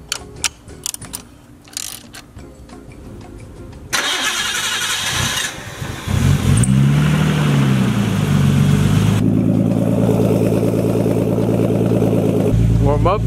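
A car engine cranks and starts after fresh spark plugs and coil packs go in, then settles into a steady, loud, close idle with a slight rev, following mechanical clicks and handling noises.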